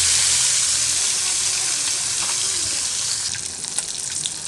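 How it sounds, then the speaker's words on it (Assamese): Fish pieces rubbed with salt and turmeric fry in hot oil in a wok, giving a loud, steady, close sizzle that eases slightly and breaks into scattered crackles and pops toward the end. "এতিয়া কেৰাহীত তেল গৰম হ'বলৈ দি ইয়াতে প্ৰথমে মাছখিনি মই ভাজি ল'ম।"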